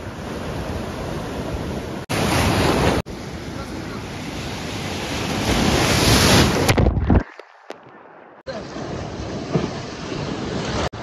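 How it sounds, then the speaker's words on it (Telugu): Ocean waves wash onto a beach in Pondicherry under a steady broadband roar with wind buffeting the microphone, swelling louder in surges and dropping out briefly near the end. "ఓన్లీ బీచ్కి వచ్చాం, బీచ్ ఎంజాయ్ చేస్తున్నాం."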